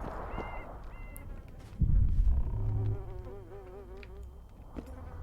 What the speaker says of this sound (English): from the sounds of flies buzzing around, there's a corpse somewhere